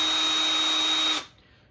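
A power drill whirs steadily, driving out the front bracket bolts on an e-bike during assembly, then cuts off abruptly and leaves a quiet room.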